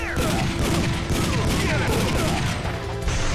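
Dense bursts of rapid gunfire from the Time Crisis shooting game, played on a PlayStation emulator, continuous and loud with overlapping shots and booms throughout.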